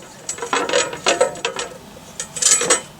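A pole or post screwed by hand into the base of a rubber dummy target, giving a series of short scraping, ratcheting turns that repeat in uneven bursts, close and fairly loud, with no talking.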